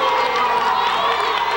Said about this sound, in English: And that gets home crowd up and about